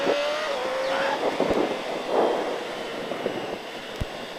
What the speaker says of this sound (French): Et là par contre hop, je peux accélérer.